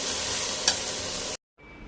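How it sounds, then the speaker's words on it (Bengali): Okra fries in a pan with a loud, close, steady sizzle and a brief stir scrape, then cuts off abruptly into near silence. "তো এই হয়ে যাচ্ছে আমার ঢেঁড়স ভাজি।"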